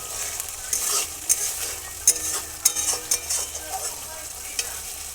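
Spice paste fries in oil while being stirred, with a bright continuous sizzle and a run of quick scraping knocks from the spoon against the pan, close up.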